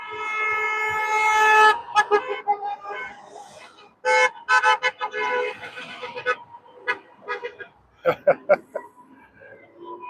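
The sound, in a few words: car horns honking at a street protest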